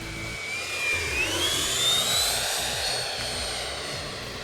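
A Freewing F-16 RC jet with a 90mm electric ducted fan flies past. Its high-pitched turbine whine rises and shifts in pitch as it sweeps by, loud and continuous.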